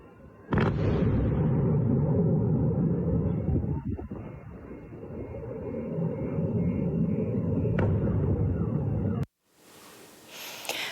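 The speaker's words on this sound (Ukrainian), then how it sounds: "чутно серію вибухів" Distant explosions boom one after another over a constant low roar, with a few sharp cracks and a sudden drop in noise near the end.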